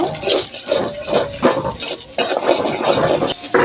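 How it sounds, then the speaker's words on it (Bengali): Noodles cooking with egg in a pan, a steady broadband sizzle with repeated stirring scrapes of a utensil against the pan, close and fairly loud, with no talking. "এখানে কিন্তু আমি একটা ডিম দিয়ে এই নুডলসগুলো রান্না করব"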